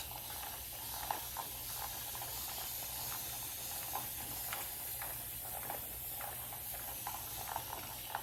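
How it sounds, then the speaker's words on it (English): A hand spray bottle spritzes water over tomato seed trays, a run of soft repeated hissing puffs, faint and close, over a steady background hiss with no voices. "We're just going to take our spray bottle, make sure this is water, and we're going to spray it down."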